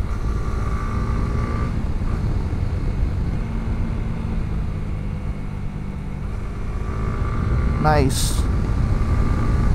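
A Honda CB150X motorcycle engine hums steadily while riding on mountain roads, with a constant close drone mixed with wind rush throughout and a brief spoken remark near the end.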